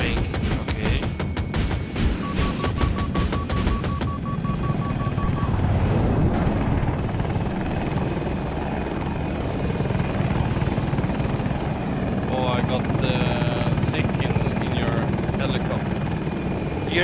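A KA-520 Super Hokum helicopter in the video game Battlefield 2042 roars with a loud, continuous rotor and engine drone, with rapid gunfire bursts early on and voices talking over it.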